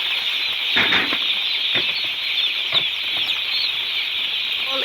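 Thousands of broiler chicks in crates arriving at a poultry farm, a dense steady chorus of high peeping mixed with bursts of fluttering and scuffling, loud and continuous throughout.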